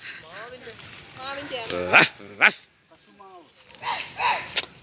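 A dog barks and whimpers in short bursts nearby, mixed with a few yips, with quiet gaps between.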